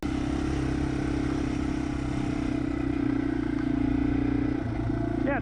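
A Yamaha TW200 or Honda XR200 trail motorcycle lugs up a dirt hill climb in second gear, its steady low engine drone running close and continuous with a brief shift in pitch near the end.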